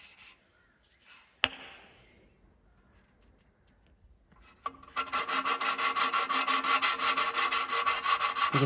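Hand-lapping a valve of an 80-year-old jeep engine: after a sharp knock and quiet rubbing, a loud, rapid rhythmic rasping of the valve twisted back and forth against its seat starts and continues steadily, close up.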